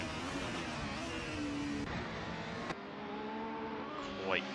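Race cars compete at the Goria circuit during a CCT round 6 race, their engines roaring and revving steadily as cars pass, with a commentator talking over the noise.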